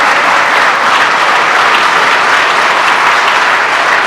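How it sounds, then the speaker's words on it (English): Sustained audience applause at a USDA National Ag Day celebration honoring department staff, loud and steady throughout with dense clapping and no speech over it. "Give the people at the department a round of applause"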